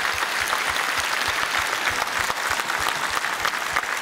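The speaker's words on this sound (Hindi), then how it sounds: "सभी जोरदार तालियों के साथ हमारे मुख्य अतिथि का स्वागत" Loud, dense applause from a crowd welcoming the chief guest at a Yog Diwas ceremony, sustained clapping filling the whole stretch without pause.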